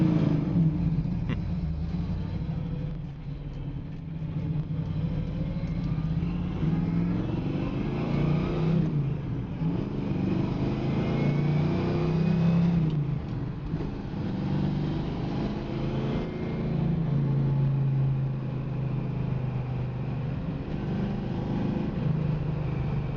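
A 1976 Chevrolet Camaro engine rumbles while driving, a deep steady drone that rises and falls with throttle changes over road noise, heard from inside the car with no talking.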